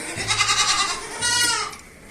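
Goats on a large home farm bleat twice in quick succession, nearby and moderately loud, each call a wavering, nasal cry against quiet surroundings.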